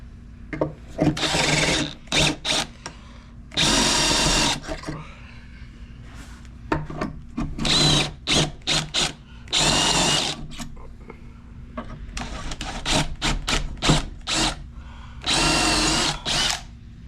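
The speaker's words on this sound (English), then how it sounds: "we're going to move to the drill press and finish it out" A drill press bores into metal bellows parts in repeated bursts of a few seconds each, loud and close, with short gaps and brief quieter whirs between.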